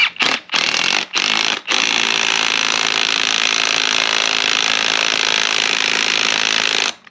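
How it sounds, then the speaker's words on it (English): Pneumatic impact wrench tightening a wheel bolt on a Jeep WJ in a garage, loud and close, with a few short rattling bursts followed by one long sustained hammering run that cuts off near the end. "I'm just hitting it with the impact."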